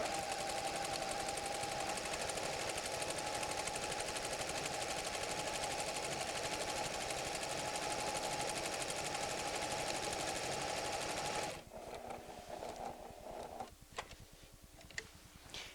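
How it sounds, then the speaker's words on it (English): A Pfaff Creative 7550 sewing machine runs backwards and forwards over earlier stitching, a steady loud mechanical whir with fast rhythmic ticking for about eleven seconds before it quiets and slows to softer clicks. "Now the machine will sew backwards and forwards until it covers the previous stitching."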